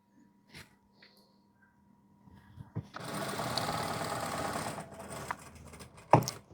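A sewing machine stitches a chiffon dress ruffle seam in a short, steady whirring run after a few quiet handling taps, ending with a sharp click.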